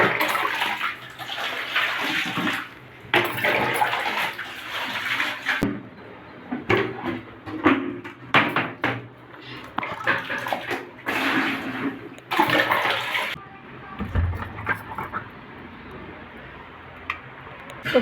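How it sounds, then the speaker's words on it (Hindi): Water is poured and splashed to soak dirty flour and rice containers indoors, with uneven gushes and sloshing broken by hard knocks and clatter from the containers, continuing for about eighteen seconds. "तो चलिए इसको मैं पानी में भिगो देती हूँ।"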